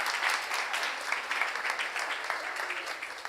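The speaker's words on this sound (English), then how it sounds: "Please give a wonderful round of applause for her" Audience applause at a Sunday feast gathering, a dense, moderately loud patter of many hands clapping steadily for a few seconds with no talking over it.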